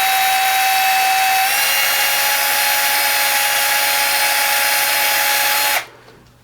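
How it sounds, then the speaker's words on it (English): Hand drill spinning a turntable drive wheel lightly against sandpaper, a steady loud whine with abrasive hiss, held continuously before stopping abruptly near the end. "So I've got the wheel chucked up in a hand drill here, and I'm just going to kind of real lightly on some sandpaper."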